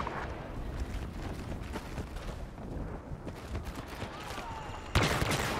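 Rockets firing on a base in Star Wars Battlefront: a dense, distant fusillade of blasts and gunfire runs throughout, with a sharper, louder impact near the end.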